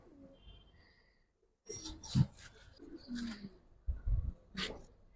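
Low, soft coos from a parrot-beaked female pigeon come in short bursts, with flapping and rustling noises nearby.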